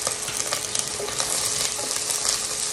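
Onion sizzles loudly in a pan for Filipino macaroni soup, a dense, close, continuous crackle with a few faint scrapes and no voices.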